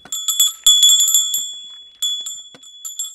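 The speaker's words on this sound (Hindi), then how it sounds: "या एक घंटी साथ रखिए।" A bright metal hand bell, carried to warn sloth bears on a forest walk, rung in quick clusters of sharp rings with ringing tails, pausing briefly and starting again, close and loud.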